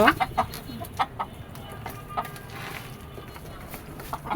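Chickens on a rooftop farm cluck in short, scattered bursts against a soft outdoor background, with a few louder calls near the start and faint human sounds between.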